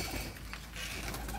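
A pigeon from a pigeon-keeping loft gives a brief, soft coo, close by and quiet, with no talking over it.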